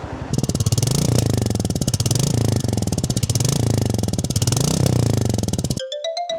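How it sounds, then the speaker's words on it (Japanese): Royal Enfield Meteor 350 single-cylinder motorcycle engine idling close up, a loud steady thumping pulse with slight throttle swells before cutting off abruptly near the end. "ということでエンジンサウンドを聞いていきます。"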